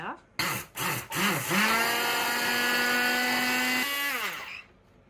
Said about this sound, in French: une autre méthode qu'on vous a toujours beaucoup conseillé et qui est très sympathique et très bruyante, le mixeur